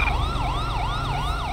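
A loud ambulance siren from the video game GTA V wails up and down in a fast, regular cycle, several sweeps in quick succession, close and alone.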